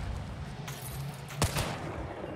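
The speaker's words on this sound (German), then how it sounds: "Zwei Schuss." A single gunshot in the video game Hunt: Showdown, a sharp crack past the midpoint with a brief echo, over a low, steady background rumble and faint earlier noise.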